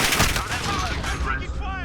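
Continuous loud gunfire from a first-person shooter video game, dense rapid shots filling the short stretch, with game voice callouts mixed in.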